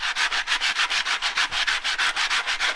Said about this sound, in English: we're going around with some Scotch-Brite, the red stuff, the good stuff